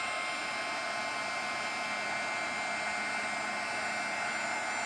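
A heat tool blows steadily for about five seconds, melting embossing powder on a handmade card, a constant airy whoosh like a hair dryer with no pauses and no voices over it.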